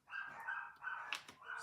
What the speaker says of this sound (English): they're barking at the vacuum cleaner